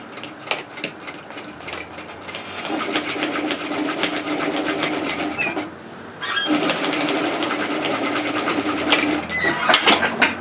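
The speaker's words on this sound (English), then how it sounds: "And sew." A sewing machine stitches a seam on a reusable medium lined shopping tote bag, running in steady bursts with a short pause near the middle, close and loud with no talking.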